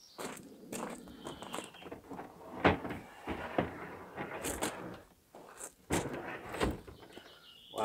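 Antique doors are lifted out of a car in France, giving a run of knocks, thumps, scrapes and rattles of old wood against the car, with a few sharper bumps, close by and in short irregular bursts.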